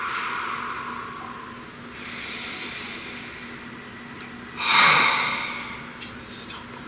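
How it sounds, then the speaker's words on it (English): A single slow, deep breath taken during a guided chakra reading, a breathy hiss rising over a steady background hum, with no talk. "Please take a nice deep breath."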